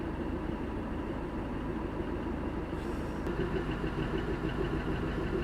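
A DEMU diesel train sits stopped at a level crossing in snowy Kashmir, its engine idling in a steady low rumble close by, with a brief faint click partway through.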